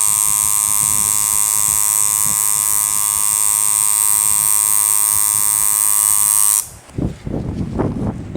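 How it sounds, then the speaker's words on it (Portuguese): A tattoo machine with a thicker shading needle works on human skin, giving off a loud, steady, close electric buzz for several seconds that then cuts out suddenly, leaving softer handling noises behind. "a gente já pode fazer essa pintura com essa agulha mais grossa"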